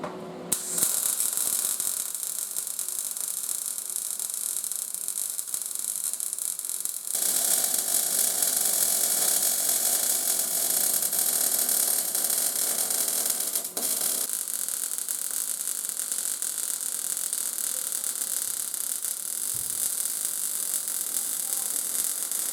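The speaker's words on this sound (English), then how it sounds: "I'm just going to weld up the back side, weld up the front side" Electric welding on an old HIAB crane, a steady hissing, buzzing arc that runs continuously for long stretches, shifting in intensity partway through, with brief breaks between passes.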